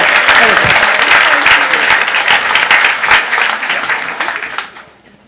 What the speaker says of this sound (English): So, round of applause for Lisa Mayelis.